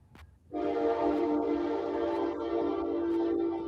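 A train sound effect played from a soundboard: a loud, sustained horn-like blast that starts abruptly after a brief pause and holds steady for about three seconds.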